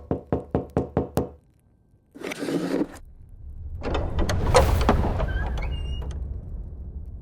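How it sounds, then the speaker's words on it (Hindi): Loud, rapid knocking on a door opens the scene, a quick series of six or seven sharp raps, followed by a rustle and a rumbling background swell. "इतने जोर से कौन दरवाजा खटखटा रहा है?"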